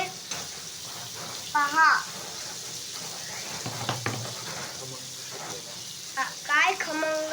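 Jitada fish frying in a pan, Agri Koli style, giving a steady close sizzle and crackle with brief stirring scrapes, while a person talks over it.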